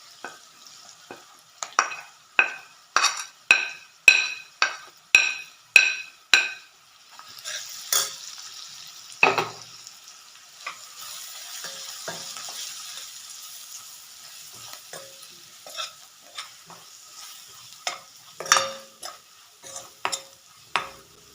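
Coriander and turmeric powder are sautéed in a pan for vegetable kurma, with a quick run of rhythmic spoon scrapes, then a soft sizzle and more scattered stirring strokes, close and clear.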